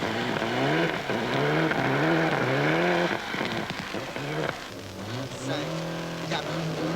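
A Renault rally car accelerates hard on a stage of the 1996 Rally Boucles de Spa in Belgium. Its engine revs climb and drop in repeated sweeps through the gears, loud and close for the whole clip, with commentary voices over it.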